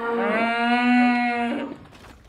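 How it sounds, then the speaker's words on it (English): Cattle on a Chew Valley farm in Regil moo from a herd kept indoors over winter, one long, loud, close bellow with a steady pitch lasting about a second and a half before fading out. "Their herd of cattle have been kept in since last November."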